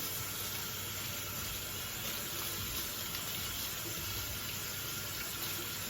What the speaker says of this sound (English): this is how we're gonna wash our greens